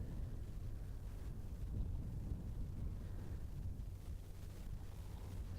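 Strong wind buffets the microphone at Southgate's Beach in Geraldton, a steady low rumbling roar throughout with no voices.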